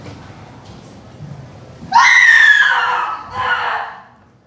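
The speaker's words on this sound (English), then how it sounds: "It is the cry of women" Women cry out offstage as a stage effect in a performance of Macbeth, a sudden loud high-pitched scream lasting about a second, then a second shorter wail that fades after a quiet lead-in.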